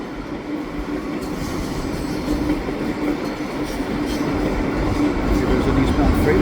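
A train rolls slowly along tracks beside a bike path in Montreal West, a steady near rumble with faint wheel clatter that grows slightly louder toward the end.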